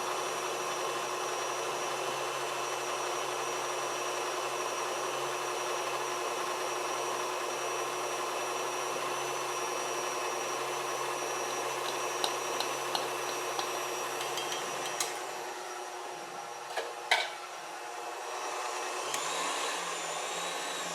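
An electric mixer whirs steadily and continuously as it beats cake batter for a chilled Ninho milk cake while egg yolks are added. The hum is moderately quiet and alone, with a few small clinks near the end.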